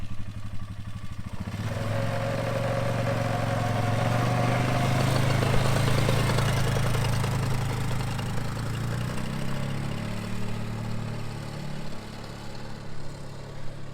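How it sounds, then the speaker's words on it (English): A Polaris Sportsman 500 quad running with worn CV joints, a steady mid-pitched engine drone that swells and settles over several seconds with a faint clattering undertone, close by and without talk. "Seems to be making a little bit of CV noise"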